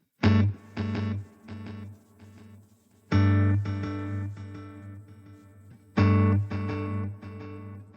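An electric guitar played through a Line 6 POD Go with a Pro Co Rat distortion and simple delay rings out in three loud strummed phrases, each hit followed by decaying repeats, no voices.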